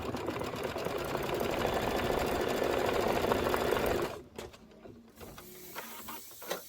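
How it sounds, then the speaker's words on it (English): An embroidery machine stitches the lower wing placement line on a floral pillow block, a steady loud mechanical whirr for about four seconds that then stops, leaving faint clicks and handling noises. "it wants you to stitch the lower wing placement line"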